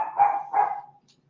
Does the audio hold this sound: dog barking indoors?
yes